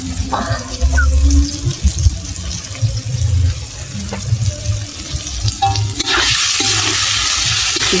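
Meat masala for a Bengali chicken dish fried and stirred in a pan with oil: loud continuous sizzling with repeated scraping and clattering of the spoon, getting brighter and hissier toward the end.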